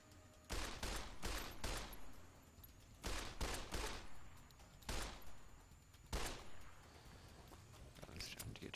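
Gunshots fire in Fallout: New Vegas near a broken highway overpass, several loud quick volleys of cracks in clustered bursts, separated by brief lulls with background game noise.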